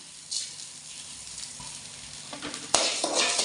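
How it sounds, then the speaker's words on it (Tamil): Salt dry-roasting in a pan, with a soft continuous hiss, a few light scrapes, and a sharp clatter near the end as the pan is handled. "அந்த உப்பையும் வறுத்துடலாம்"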